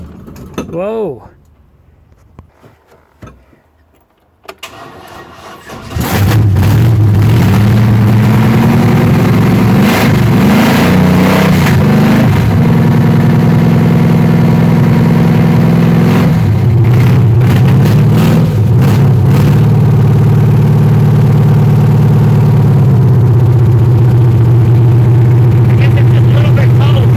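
A 1967 Corvette with newly rewired systems cranks in short bursts, fires up after about five seconds, then settles into a loud, steady idle with a deep rumble and occasional revs. A voice talks briefly near the start.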